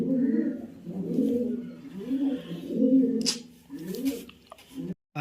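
A racing pigeon, just back from a 350 km race, coos up close in a repeated rolling rhythm of low, throaty phrases, with a few brief rustling knocks near the end.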